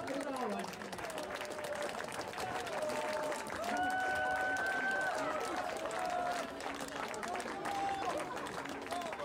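Stadium crowd applauds and cheers steadily as a football club from Jelgava is welcomed at a tournament opening, a broad continuous wash of clapping with an announcer's voice over it and a lingering tonal sweep.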